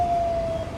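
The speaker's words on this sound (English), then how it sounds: "Oh my God, there's an ambulance coming, or maybe it's gonna turn." An ambulance siren passing outside, a steady high wailing tone heard through the room over a low rumbling background, fairly close and loud.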